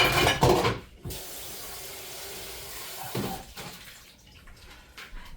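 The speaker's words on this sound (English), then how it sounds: "I'm going to drain all the juices that are in there" Juices from a baked stuffed chicken pour into a bowl, a close splashing trickle that starts loud, settles into a steady stream, then tapers off into a few drips.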